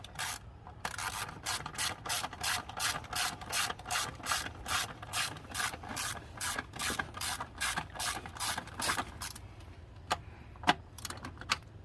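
A hand ratchet tightens bolts on a 2012 Dodge Caravan 3.6 oil cooler, giving a rapid, steady run of close metallic clicks that slows and stops near the end.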